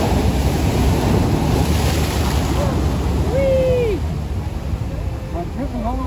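Ocean waves roll and break on a beach in a loud, continuous wash, with heavy wind rumble across the microphone and brief whistling tones over the surf.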